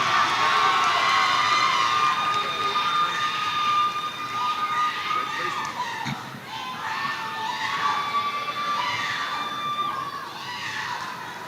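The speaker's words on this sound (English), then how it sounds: "Please join me in giving the graduates in row two, a round of applause." A high school graduation crowd cheers and shouts in a large echoing space, a loud sustained roar of voices with high-pitched whoops on top.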